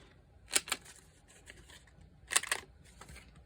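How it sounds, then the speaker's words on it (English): A corner rounder punch bites through paper twice, each press a sharp crisp clack with a small follow-up click, close by in a quiet room with faint handling noise between. "I'm going to take my corner rounder."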